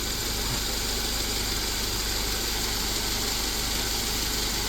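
A car engine with Bosch K-Jetronic fuel injection idles as it nears operating temperature. A steady, close, even hum and rumble carries on throughout with no talk over it.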